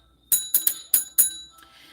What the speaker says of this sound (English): So you guys, we have rung the bell again.